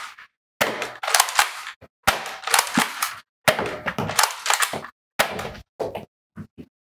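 NERF Rival Finisher foam-ball blaster firing repeatedly in close, loud bursts, each shot a sharp crack followed by rattling mechanism noise, in four main clusters with brief silences between and a few smaller clicks at the end.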